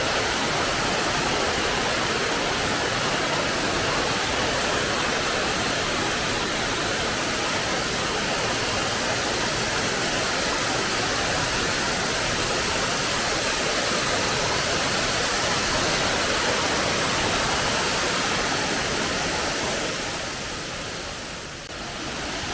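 Steady, loud roar of a waterfall in Bohol, Philippines, a dense broadband rush of falling water that holds unbroken throughout, close by, with no voices.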